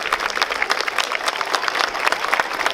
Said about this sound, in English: How about if we give Miss Gomez a big round of applause?